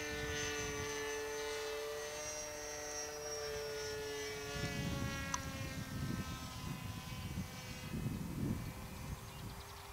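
An OpenPilot-controlled fixed-wing model aircraft flies autonomously as a faint, distant motor drone whose pitch slowly shifts, with a low rumble building in the second half.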